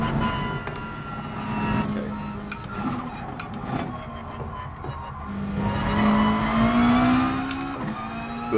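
A Subaru WRX STI engine in Gran Turismo Sport on the Isle of Man course holds a steady, loud drone that climbs in pitch through the gears, with brief tyre scrubs along the way.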